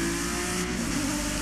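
A Palmer Jaguar race car in Project Cars at Laguna Seca drops down through the gears, its engine a loud, steady, buzzing drone with a slight pitch shift, no voices over it.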